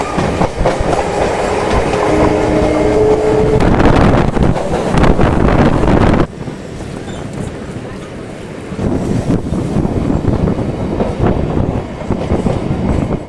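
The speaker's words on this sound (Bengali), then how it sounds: "এই প্ল্যাটফর্ম থেকে একটু পরে কিন্তু ট্রেন চলে আসবে" A train arriving at a station platform on the line to Majhdia, heard close by, gives a loud rumbling roar with rhythmic clatter. Wind buffets the microphone, the level drops partway through and then the rolling noise picks up again.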